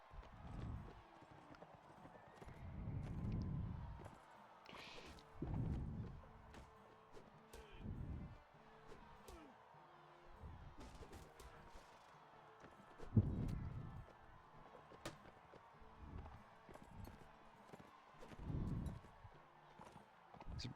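Horses gallop in a Mount and Blade Warband tournament with mounted horse archers, rhythmic hoofbeats swelling and fading in repeated bursts, with occasional whinnies and clatter over a quiet background.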